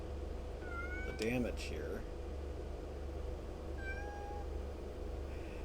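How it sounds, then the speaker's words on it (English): A pet cat cries with a sharp, wavering meow in the middle, over a steady low background hum, while a person talks nearby. "If you do hear crying, that is my cat"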